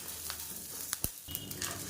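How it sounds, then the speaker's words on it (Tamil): Chana dal, curry leaves and tamarind roasting in a pan give a soft, faint crackle and sizzle, with a few sharp clicks and taps of stirring. "இப்போ இது எல்லாமே நல்லா வறுபட்டுருச்சு."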